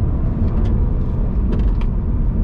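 A 2021 Toyota 86 GTS building speed on a race track, its engine a steady, loud broadband roar with low rumble, continuous through the whole stretch with no voices over it.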